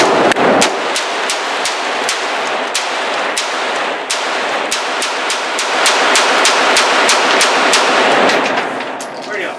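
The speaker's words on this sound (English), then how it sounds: "I was gonna shoot the M4, but I'll shoot it." Rapid, loud M4 rifle gunfire outdoors at a range, a long run of sharp evenly spaced shots, some in quick bursts, close to the microphone with constant wind-like background.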